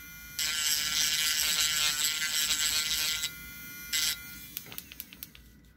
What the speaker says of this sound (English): A little bit grinding.